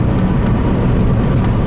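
Steady, loud road and motor roar of a Tesla Model X electric car accelerating, a dense continuous rushing noise with no voices.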